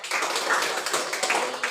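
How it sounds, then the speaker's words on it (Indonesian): Classroom applause from a group of students, a short burst of dense, overlapping hand claps lasting under two seconds. "Beri tepuk tangan dulu untuk kita semua"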